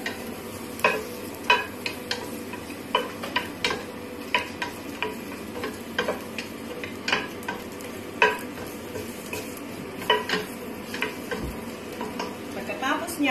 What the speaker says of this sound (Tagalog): Brown natin ng konti ang sibuyas.